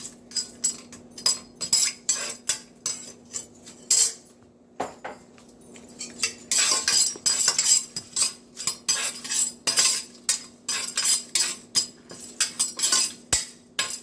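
Whole spices tipped into hot oil in a pan for a gongura vegetable biryani, making dense bursts of metallic clinks and clatter with a steady low hum beneath, loud and close with a brief pause midway.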